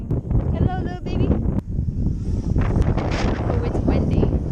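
Gusty wind buffets the microphone on an open hilltop overlooking a town, a steady low rumble with rustling bursts, while voices talk over it.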